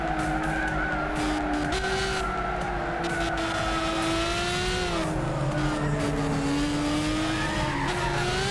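Race car in Gran Turismo 6 skidding with a sustained tire squeal over a steady engine drone, holding loud and continuous throughout with pitch wavering and shifting midway.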